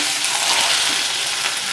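Curry leaves hit hot oil already crackling with mustard seeds and chana dal for a lemon rice tempering, giving a loud, dense, continuous sizzle and spatter with no voices.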